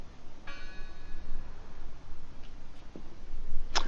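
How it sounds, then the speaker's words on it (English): A bell in the horror exploration game Draugen gives one clear ringing strike with a short, ringing tone, then a few faint knocks and a bright metallic chime near the end, over a low ambient hum. "I heard the bell."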